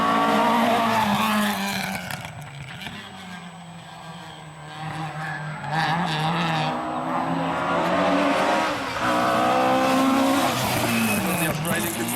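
Rally car tyres squealing and engine roaring at the start line of a classic rally stage, with sustained loud engine drone and sliding tyre tones under a commentator's voice.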